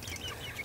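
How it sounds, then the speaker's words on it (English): Young chickens, roosters and pullets, on a farm in the morning, giving soft, high chirping clucks in several short calls over a low background hum, fairly quiet and without talk. "Now is the time that I can see which ones are roosters and which ones are hens"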